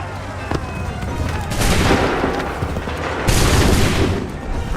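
Musket volley gunfire in the video game Assassin's Creed III, loud booming bursts of massed shots crackling and rolling out, one near the start and two heavier waves later, with voices shouting orders around them.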